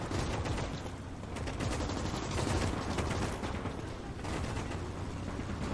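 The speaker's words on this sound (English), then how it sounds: "Machine guns are going ham." Dense, continuous machine-gun fire from Call to Arms: Gates of Hell on the Eastern Front, with overlapping bursts and rattling volleys forming a loud, unbroken wall of gunfire throughout.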